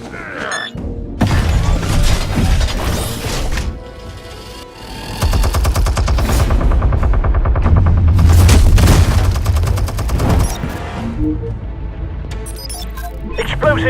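Explosions and heavy gunfire in a Batman action video game cutscene: loud, sustained booming blasts with rapid shots layered over a dense rumbling roar, almost continuous throughout.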